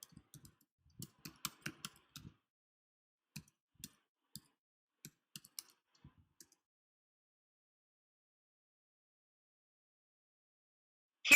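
A word typed on a computer keyboard, a scattered run of quiet, close key clicks in short bursts over about six seconds, then silence.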